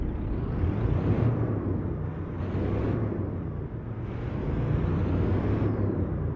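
A Kenworth T680 semi truck drives down the highway, its engine a low, steady drone inside the cab. The tone rises and falls in long, smooth waves with road rumble beneath it.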